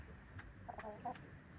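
Two pet hens clucking softly close by, a few short clucks scattered over a quiet background.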